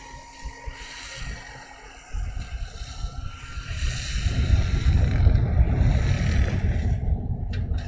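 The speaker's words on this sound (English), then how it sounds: "And just getting some gusty wind now. Giving it a bit of a shake." Gusty wind buffeting an airport microphone, low rumbling gusts building from quiet to a strong, sustained roar.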